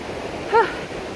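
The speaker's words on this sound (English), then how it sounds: "we're gonna walk next to a waterfall, and it's gonna mist us" A waterfall on the Mist Trail in Yosemite gives off a constant broadband roar close by, with one brief high chirp cutting through it midway.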